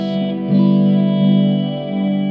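A Strymon Timeline delay pedal set to a tape-age style effect: a sustained, wavering tone with warbling pitch and lo-fi coloration, swelling and dipping in level over a couple of seconds, heard alone without any voice.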